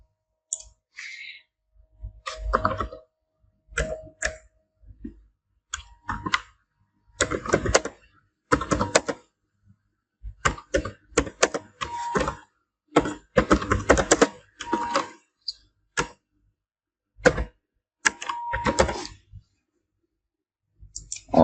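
Text is typed on a computer keyboard while a website is built, a close, clicky patter that comes in irregular bursts separated by quiet gaps.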